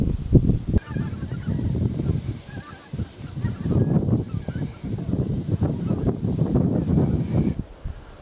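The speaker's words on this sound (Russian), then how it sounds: "вот сейчас он прошел, этот гусь" Geese honking as a wedge-shaped flock passes high overhead in spring, a continuous chorus of overlapping honks that swells and fades, fairly loud with some wind.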